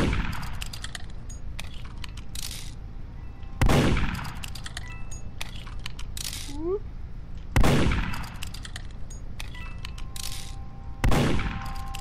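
Gunshots in the Roblox game Murder Mystery 2: three sharp, loud blasts spaced a few seconds apart over steady game ambience and scattered clanks.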